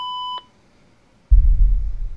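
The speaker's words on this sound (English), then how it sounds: "Please leave a message after the beep." A single short electronic answering-machine beep sounds in the iOS game Heathcote, clear and tonal, then drops into silence before a low rumble of noise comes in.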